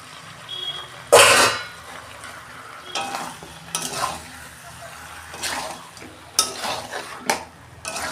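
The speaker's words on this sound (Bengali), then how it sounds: "এই যে মাংসটা ঢেলে দিচ্ছি।" Raw chicken pieces for a homestyle chicken curry drop into a cooking pot with a loud splashing thud, followed by intermittent stirring scrapes, clinking against the pot and a faint sizzle.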